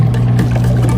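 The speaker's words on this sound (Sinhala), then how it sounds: "මේ මෝටර් බෝට්ටු ගියාම මේ" A motorboat engine on the water near Madol Doowa gives a loud, steady low drone with a mechanical whir. The drone holds even throughout, with no voices.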